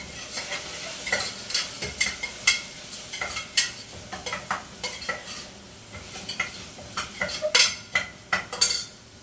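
Tomato and onion sautéing in a pan, a low sizzle beneath frequent sharp metallic scrapes and clinks of a ladle against the pan in an irregular rhythm, close and fairly loud.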